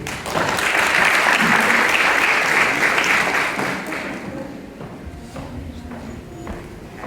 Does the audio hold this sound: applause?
yes